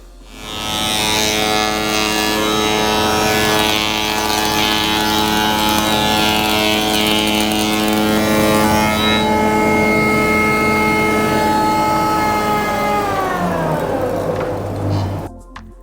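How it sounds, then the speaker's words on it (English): A spindle moulder shaping wood for an ash and purpleheart picture frame, running loud and steady with a constant whining hum and harmonic drone for most of the time before winding down as it stops near the end. "I've already set the spindle up just on the very end, so we're good to go."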